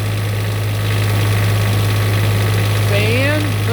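A generator engine runs under electrical load, giving a steady, close droning hum with a low vibrating tone and no clear pause.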